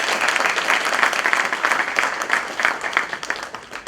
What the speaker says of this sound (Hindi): इसलिए ताली बजा रहे थे। अपने लिए बजाओ।